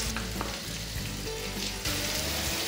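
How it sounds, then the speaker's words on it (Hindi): Spices with red chilli powder, black salt and salt stirred into raw mango in a pan on a low flame for a sweet-sour chutney, giving a steady close sizzle with soft scraping stir strokes and no talk. "लो फ्लेम पे ही मसालों को अच्छे से मिक्स करेंगे।"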